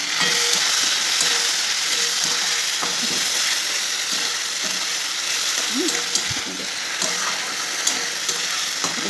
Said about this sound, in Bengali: মশলাটা দিয়ে আরেকটু ভাজা ভাজা করবো।